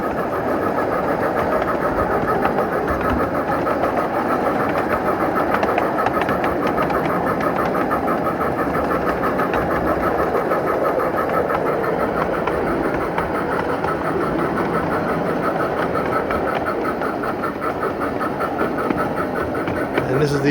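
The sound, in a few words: Tom Bee electric steam-outline locomotive climbing a 4% grade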